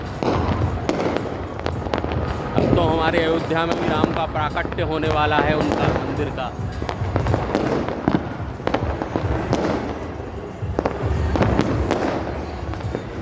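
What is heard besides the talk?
firecrackers exploding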